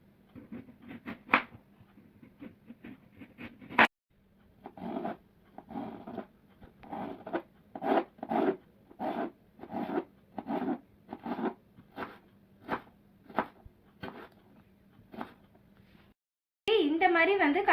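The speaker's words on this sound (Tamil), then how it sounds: "இப்போது இந்த உருளைக்கிழங்கை ஸ்லைஸாக போட்டுட்டு அதுக்கப்புறம் குச்சி குச்சியாக கட் பண்ணி எடுத்துக்கலாம்." Potatoes for homemade chips being sliced and then cut into sticks, heard as a steady run of about a dozen crisp, evenly spaced knife strokes against a board, close by, with brief talk at the start.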